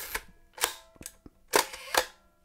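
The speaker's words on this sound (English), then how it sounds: "I've obviously just taken that down to half a second" A Kiev 60 medium-format film camera fires its shutter repeatedly at a half-second speed, giving close, crisp mechanical clacks in pairs: each opening snap is answered by a closing snap about half a second later, with faint clicks between.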